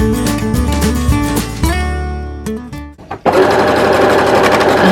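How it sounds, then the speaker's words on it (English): A domestic sewing machine stitching fabric at its longest stitch setting, a steady rhythmic mechanical whir up close that slows, halts briefly, then gives way to a louder broadband rush. "just need your regular sewing machine"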